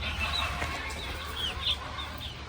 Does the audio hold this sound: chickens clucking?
yes